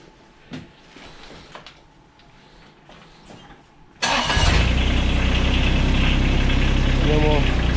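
A machine's engine is started for a seal leak test. Quiet handling sounds and a low voice come first, then about halfway through the engine bursts into life and keeps running at a loud, steady idle.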